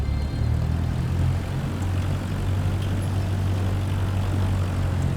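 Steady, loud drone of a propeller airplane engine in Microsoft Flight Simulator 2024, a constant low hum with a smooth throbbing tone, close up and uninterrupted with no talking.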